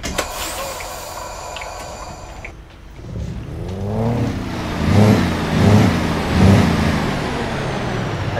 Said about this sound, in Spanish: Ahí suena el motor.